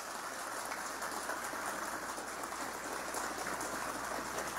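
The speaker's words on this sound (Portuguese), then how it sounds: "Uma salva de palmas ao nosso querido irmão Edelbrando Maciel." Sustained applause for an honoured elder at a church ceremony, a dense steady wash of clapping hands from a large crowd that fills the whole stretch at an even level.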